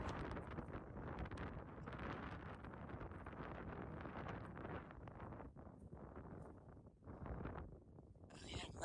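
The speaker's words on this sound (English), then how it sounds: "It's very windy." Strong wind buffets and roars across the microphone in continuous gusts, briefly easing before surging again, on a New Mexico trail.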